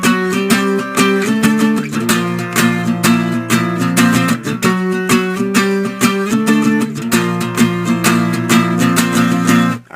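Guitar plays the intro riff of a song, a loud, driving, distorted pattern repeating steadily and close up, with no talking, ending abruptly.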